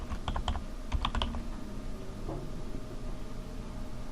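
A domain name is typed on a computer keyboard during Windows network setup: two short quick bursts of close keystrokes over a steady background hum, then only the hum.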